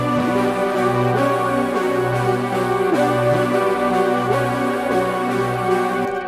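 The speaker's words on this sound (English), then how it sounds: "you hear that nice ring out of that reverb" Two layered synth melodies in a dark trap beat, sustained tones over a steady low bass pulse, with a big reverb tail ringing out between notes, loud and continuous with no talking.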